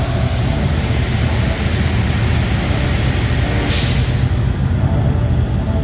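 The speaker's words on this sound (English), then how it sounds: "the Hungarian team that mounted MiG jet engines on a Soviet tank to blast water at the fire" MiG jet engines mounted on a Soviet tank blast water at an oil-field fire, a loud unbroken roaring rush of engine and spray holding steady throughout, with a brief hiss near the end.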